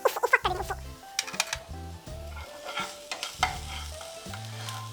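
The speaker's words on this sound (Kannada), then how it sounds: "ಇನ್ನೊಂಚೂರು ಬೇಗ ಫ್ರೈ ಆಗಬೇಕು ಅಂತಂದರೆ ಒಂಚೂರು ಸಾಲ್ಟ್ ಹಾಕ್ತೀನಿ" Pineapple fried rice tossed with salt in a hot pan, with a steady sizzle of frying and a run of scraping, clattering stirs of a spatula against the pan, close and busy.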